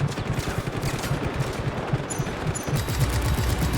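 Rapid automatic gunfire in the open-world action game Just Cause 3, loud, dense overlapping bursts rattling continuously without a break, with no voices audible.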